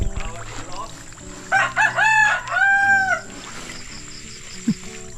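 A rooster crows once, loud and close, with a long drawn-out call in the middle of the clip, over faint background noise and a brief knock near the end.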